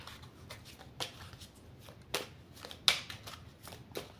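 Oracle cards being shuffled by hand, soft papery riffles and flicks recurring about once a second, quiet and close with no voices.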